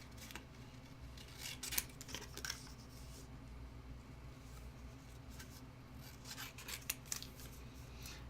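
Scissors snipping by hand through a printed canvas design for a mixed-media craft piece, with scattered crisp cuts and rustling in bursts over a steady low background hum, close and fairly quiet.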